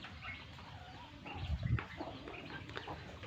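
Turkey and goose chicks on a farm make faint, scattered soft calls and chirps over a low outdoor background, briefly louder near the middle.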